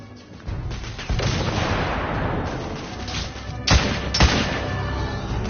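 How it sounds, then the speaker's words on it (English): A frag grenade explodes in The Order 1886 amid continuous loud battle noise, with a couple of sharp heavy blasts standing out near the end. "Throwing frag!"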